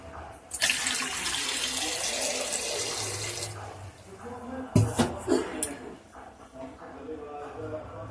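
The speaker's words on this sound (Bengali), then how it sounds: "এবারে আমি একটু জল দিয়ে দেবো।" Water poured from a tap over sweet potatoes in a pot, a steady gushing splash for a few seconds, followed by clinks and handling sounds while someone speaks.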